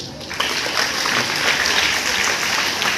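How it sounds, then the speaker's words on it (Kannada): Audience applause at a yoga event for Swami Vivekananda Jayanti, a dense sustained crowd clapping that swells in and holds steady, loud and close, with no talk over it. "ಅದಕ್ಕೆ ನೀವೆಲ್ಲ ಚಪ್ಪಾಳೆ ಹೊಡೆದು ಪ್ರೋತ್ಸಾಹ ಕೊಡಿ"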